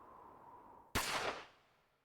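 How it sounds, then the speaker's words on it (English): A single gunshot in the visual novel game Chaos;Head Noah, a sudden sharp crack breaking a quiet low hum, then a short echoing decay that fades out over about a second. "Then, Ban heard a gunshot."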